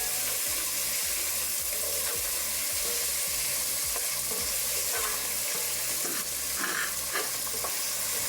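Onions and fennel sautéing in a pan give a loud, steady close sizzle, with a spatula stirring and scraping through it in a rough repeating rhythm.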